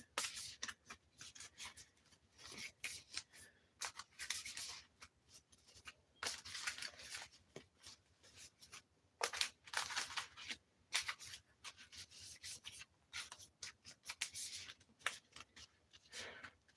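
Double-sleeved Magic: The Gathering cards, fresh and not yet worked in, being shuffled by hand: close, crisp bursts of riffling and sliding plastic sleeves in irregular repeated passes, fairly quiet and with no talk.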